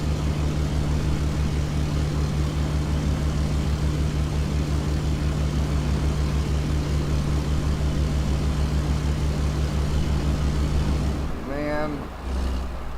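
An American Truck Simulator truck with a 7-speed gearbox and 900 horsepower engine drones steadily and loudly, with a low, even hum that shifts briefly near the end.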